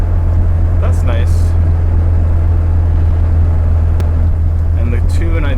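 A K-swapped BMW E30 engine drones loud and steady from inside the cabin, a constant low hum under someone talking throughout.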